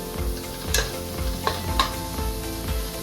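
Capsicum fries in a pan for egg, carrot and capsicum fried rice, with a constant sizzle under a low hum and several quick scraping strokes of a spatula against the pan.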